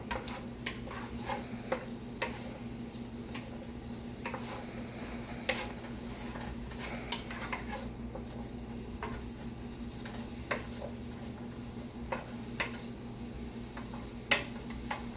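Vegetables for pasta primavera sizzle quietly in hot oil in a pan, a low steady crackle with faint scattered ticks and pops, and no talk.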